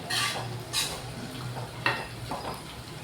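Gongura chicken being stirred in a pan, with repeated scraping strokes of a utensil against the metal over a low, steady sizzle, close and fairly loud, with no talking.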